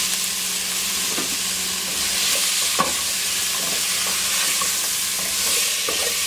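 Two cups of diced peeled potatoes sizzle steadily in a pan over medium-low heat for a vegan dumpling soup, a constant close frying hiss broken by a few stirring scrapes and taps.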